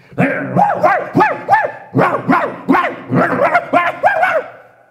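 A voice imitates a dog barking during a church revival meeting, giving a rapid run of loud, close woofs and yips in uneven bursts with no other sound around them.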